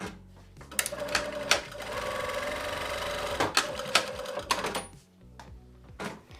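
A sewing machine runs a seam in quick rapid bursts, its needle clattering in a steady mechanical rhythm that starts and stops several times, close and loud.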